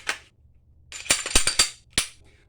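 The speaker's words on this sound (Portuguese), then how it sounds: "Usa a mesma mola de recuo e remonta a arma novamente." Sharp metallic clicks and clacks of a 9mm pistol being reassembled with its recoil spring: a brief snap, then a cluster of quick overlapping clacks and one final click, close and crisp.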